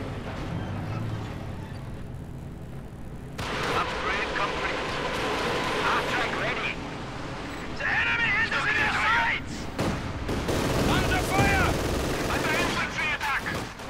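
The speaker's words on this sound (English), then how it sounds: "Quick rifle grenade here." Rifle grenade launches and gunfire in the video game Company of Heroes 2, with dense loud battle noise of shots, bursts and explosions filling the scene while a commentator talks over it.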